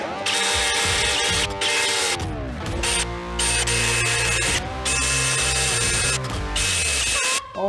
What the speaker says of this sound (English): go ahead and get a grinder bit on this thing and see what we can accomplish